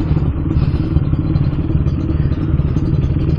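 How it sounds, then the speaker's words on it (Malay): A Kawasaki RR150 two-stroke motorcycle being ridden, its engine buzzing loud and close with a rattly, steady drone and wind rush throughout. "dapatlah korang tengok lah suasana bila aku bawa motor 2 stroke"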